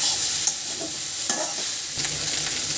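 Boiled pasta frying in a pan with spices, a continuous bright sizzle with occasional scrapes and clicks of a spoon stirring it, close and loud with no talking.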